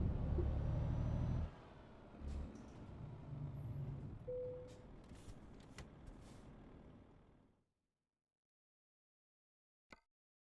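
A Volvo FH truck with a 750-horsepower engine rumbles loudly in a trucking video game, then the engine note drops and fades out to silence, followed by a single faint click.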